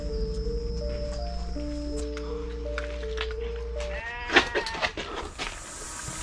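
A goat bleats at night, a wavering cry standing out over droning background tones, followed by fainter scattered sounds.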